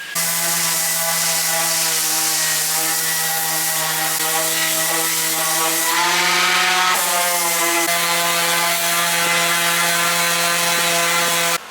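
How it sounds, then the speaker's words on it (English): Bare fiberglass on a catamaran being sanded and keyed up with a power sander, a loud, continuous, close whining drone whose pitch shifts slightly as the tool is pressed in. "So Tynan is downstairs right now keying up the bare fiberglass."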